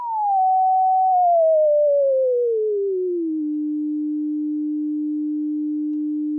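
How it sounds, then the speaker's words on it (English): A clean, pure synthesized sine wave tone from a self-oscillating filter in Bitwig Studio glides smoothly downward in pitch, then settles and holds steady on a lower note, loud and unbroken. "we would be able to generate out a perfect sine wave."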